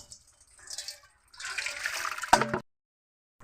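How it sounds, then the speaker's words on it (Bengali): Live fish being washed by hand in a bowl of water, with swishing and splashing in two bursts, the second ending in a sharp knock before the water falls silent. "এখন মাছটাকে আমি ভালোভাবে এরকম অনেকবার ধুয়ে নেবো"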